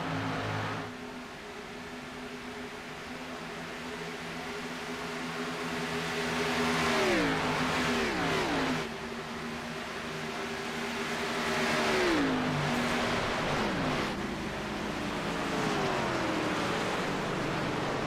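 Race cars circling a superspeedway in a racing video game, a pack of engines droning steadily with rising and falling pitch sweeps as cars pass by, continuous and fairly loud with no speech.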